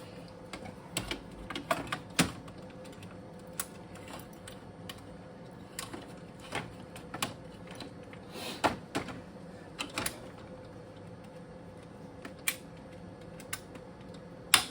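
Sharp plastic clicks and snaps come at irregular intervals over a quiet room, like parts being pushed and locked into place.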